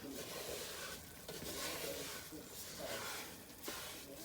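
Fine semolina being stirred and folded in a pan for halva, a steady soft sizzling hiss broken by repeated scraping sweeps of the spoon, continuous and close.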